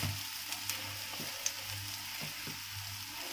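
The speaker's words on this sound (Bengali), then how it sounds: "এগুলো কিন্তু ভাজাতে একটু টাইম নেবে" Coriander leaf fritters frying in hot oil over a gas flame, a soft continuous sizzle with faint crackles and a few small pops throughout, close and quiet.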